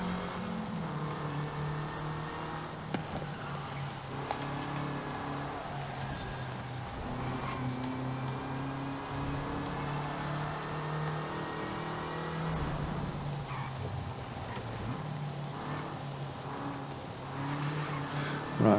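A car engine accelerating and holding high revs in a Forza Horizon race on Cathedral Circuit, a steady droning whine with shifting pitch that runs continuously at moderate loudness.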